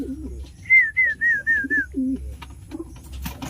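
Flyer and homer cross pigeons coo nearby: a run of five short, even coos in quick succession, followed by a lower, softer coo against a quiet background.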